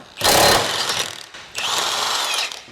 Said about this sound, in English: Now when I take this bolt out, it is going to come down a little bit